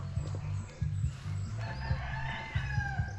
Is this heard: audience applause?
no